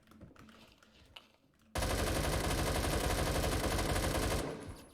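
Sustained, dense automatic rifle fire from an AK-12 in the Roblox shooter Phantom Forces, erupting loud and close after quieter game ambience and running as a continuous rattling burst for nearly three seconds before cutting off.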